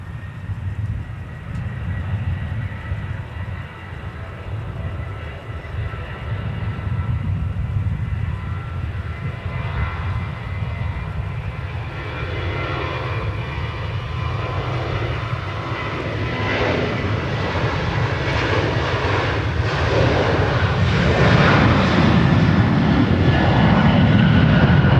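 A United airliner takes off from runway 12 right at Minneapolis–St. Paul, its jet engines building from a low rumble into a broad, swelling roar that grows steadily louder over the long takeoff run, with no voices.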